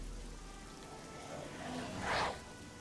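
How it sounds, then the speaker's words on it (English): Soft, steady rain hisses faintly in Oblivion's outdoor world, a low continuous wash with a brief swell near the end and no talking. "In the rain, again, camping in the rain."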